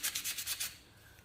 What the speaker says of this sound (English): just a softer bit of sanding, just to give it a nice finish